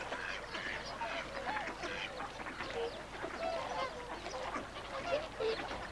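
A large flock of wild geese and ducks calls on coastal mudflats, with distant, overlapping honks and quacks forming a continuous chorus.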